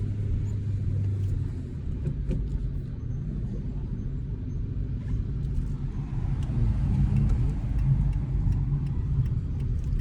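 Inside a moving car on a city driving route, the engine runs at a steady three thousand rpm as a constant low rumble and road drone, with faint ticks above it and no talk.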